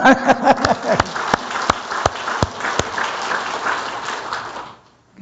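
A church congregation claps after a Korean Sunday service prayer. A few sharp, separate claps open, then a fuller, continuous spatter of hands follows and fades out near the end.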